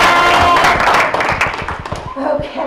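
Audience clapping at a small-town Meet the Candidates Night in Stafford, Genesee County: a burst of dense applause from a room of people that thins out into a few scattered claps, with voices mixed in.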